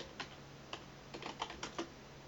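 Several quick key presses on a computer keyboard, typing in a short irregular burst close by over a faint steady hum.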